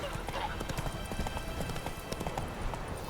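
A horse gallops in the video game The Witcher 3, its hooves beating in a quick, steady, rhythmic clip-clop at close range throughout.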